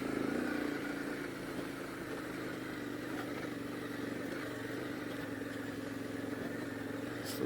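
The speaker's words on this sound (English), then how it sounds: "Just taking it nice and easy in first gear up here." A KTM motorcycle climbs a rocky uphill trail in first gear, its engine giving a steady, close mid-pitched drone with little variation, under a hiss of wind.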